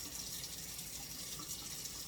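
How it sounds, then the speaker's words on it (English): Kitchen tap water runs steadily into a sink while eggs are cooling, a constant close rushing hiss without breaks or voices. "Turn this water off."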